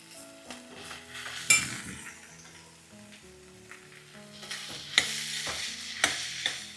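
Broad beans fry with onions and spices in a pan while a utensil stirs them, scraping and clinking against metal in irregular strokes over a soft, steady sizzle.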